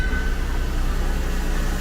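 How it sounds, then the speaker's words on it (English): A garage door opens with a loud, steady mechanical drone and rumble, plus a faint sustained whine, continuous from start to finish. "That was the garage door noise"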